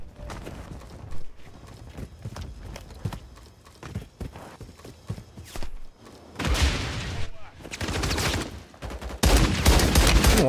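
Gunfire in the shooter Warzone: scattered shots and clattering through the first half, then louder sustained automatic bursts later, with a voice talking over parts of the clip.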